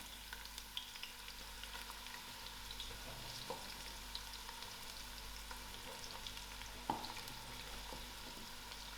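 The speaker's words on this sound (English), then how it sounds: "I'm going to use half of this onion to fry golden brown" Half an onion frying in melted ghee in a pan, a steady soft sizzle with occasional light pops and stirring clicks, continuous and close with no voices.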